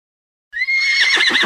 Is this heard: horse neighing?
yes